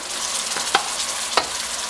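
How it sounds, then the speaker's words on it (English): Buffalo wing sauce stirred in a pan gives a steady close scraping sizzle with two sharp clicks of the utensil against the pan, and no talking. "Stir that around."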